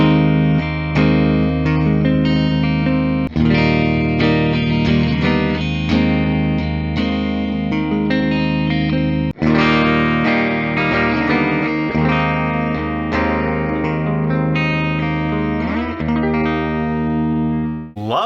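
A distorted electric guitar, a 2017 B&G Guitars Little Sister with hand-wound pickups, plays sustained chords and riffs with heavy effects and echo, loud and continuous without any voices.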